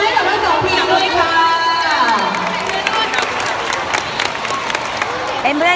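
Spectators at a chairball match clap and cheer for both teams, a lively mix of applause, crowd chatter and children's shouts, with a voice speaking over the noise throughout.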